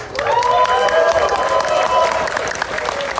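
A crowd at the ConFuzzled 2024 convention closing ceremony bursts into applause mixed with cheering. Loud, sustained clapping blends with ringing, held tones and scattered shouts that taper slightly toward the end.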